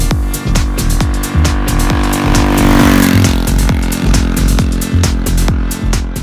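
A 125cc motorcycle on a speed test, its engine revving loud and close in repeated rising pulls, climbing through the gears with quick dips between shifts.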